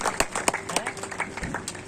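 A crowd at an outdoor public gathering claps in a loud, irregular burst to welcome a guest arriving on stage, with voices mixed into the applause.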